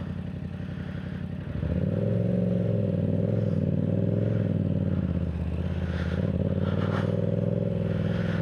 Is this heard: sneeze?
no